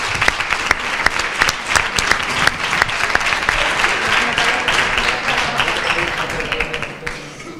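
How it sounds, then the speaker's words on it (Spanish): A crowd claps loudly at a school's 90th anniversary celebration with dense, continuous applause that tapers off and fades near the end. "Un aplauso para ella, por favor."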